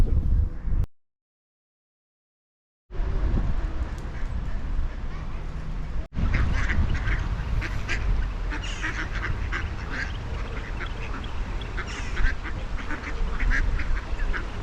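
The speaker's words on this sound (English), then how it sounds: "Lots of ducks." Ducks quacking on the River Wye near the medieval Monmouth Bridge, a busy flock calling over steady outdoor noise, with a short dropout near the start.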